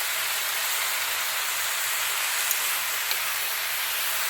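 Fresh mustard greens with onions frying in a pan over a high gas flame, giving a steady, loud broadband hiss that holds evenly throughout with a couple of faint ticks.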